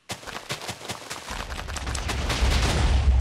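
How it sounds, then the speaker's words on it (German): A burst of blasts from the video game Minecraft: a rapid run of sharp cracking explosions that quickly merge into a dense, swelling roar of rumbling debris, growing louder and fuller toward the end. "es ist jetzt unsere letzte Explosion hier, oder?"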